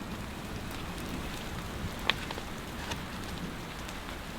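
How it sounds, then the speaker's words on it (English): Rain falling steadily among rocks during a thunderstorm, a dense even patter with a few sharper drips standing out, continuous and close with no voices. "It's raining enough where it's now dripping off the rocks."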